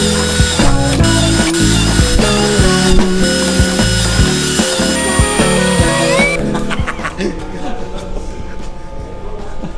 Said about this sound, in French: Fais des trous.